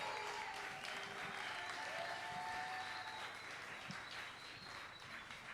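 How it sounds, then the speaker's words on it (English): Sustained applause from the audience at a talent search event, steady, dense clapping filling the room for several seconds with a few whistled tones rising over it. "Can we please get a round of applause?"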